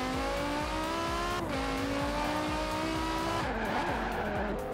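Engine of a car racing in Forza Horizon 4, a loud, sustained revving drone that shifts pitch through gear changes, with faint tire noise underneath and no talk.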